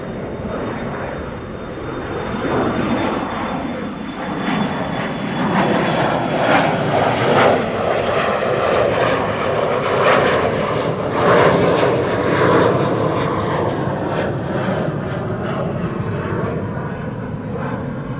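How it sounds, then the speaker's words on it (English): An Embraer 175 regional jet departing for Leeds gives a loud, sustained engine roar that swells and holds steady for well over fifteen seconds, broad and rumbling, with a thin high whine fading early on. "That was an Embraer 175 to Leeds."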